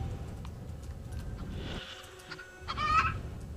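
Poultry-like honking and clucking calls from a chicken in the video game Destroy All Humans!, rising near the end over a steady background rumble and game noise.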